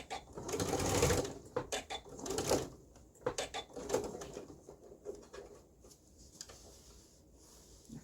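A sewing machine backstitches a seam on an unlined jacket made from Simplicity pattern 4081, running in several short, loud rattling bursts separated by pauses, close to the microphone.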